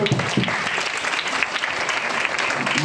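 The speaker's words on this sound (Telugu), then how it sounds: "చప్పట్లు." A dense, steady round of audience applause fills a stage gathering in Mangalagiri, loud and close, with many hands clapping together and no break for the whole stretch.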